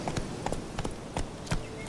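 Roach the horse's hooves beat out a quick, even run of sharp thuds in The Witcher 3, moderately close and alone for a couple of seconds.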